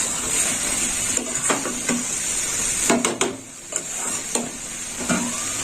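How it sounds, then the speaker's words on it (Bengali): Potatoes for a red potato curry are stirred in a pan after spices have been tempered in hot oil, with repeated scraping strokes of a utensil over a continuous sizzle and a faint high hiss. "এই দেখুন বন্ধুরা, ফোড়ন দেওয়ার পর ভালো করে আলুটাকে নেড়ে চেড়ে দিতে হবে।"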